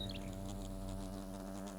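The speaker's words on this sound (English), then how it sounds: "One of these wasps in here looks like they're like humping a dead body" Wasps buzzing in Fable Anniversary, a steady insect drone that holds close and loud for the whole stretch, layered over a low game ambience with no talking.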